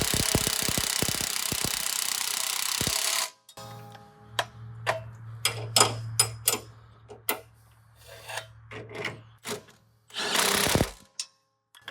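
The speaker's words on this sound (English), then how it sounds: "Come back with the torque wrench." A torque wrench on a steering bolt being tightened to spec during a death-wobble fix, with a sharp run of ratchet clicks and metallic ticks around the work, loud and close, then a burst of noisy rattling near the end, no voices.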